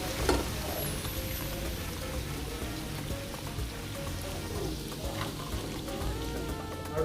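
Chicken frying in hot oil for a honey nut crunch dish gives a faint, steady sizzle and crackle, like light rain, continuing throughout with a few sharper pops.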